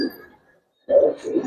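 Two male Giribaz pigeons cooing at close range: a low, soft throaty burble, a short pause of near silence, then another rolling coo that carries through to the end.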